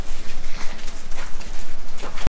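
Horse hooves clip-clop at an international eventing competition in France, a loud, close run of rhythmic thuds over heavy outdoor noise that cuts off abruptly.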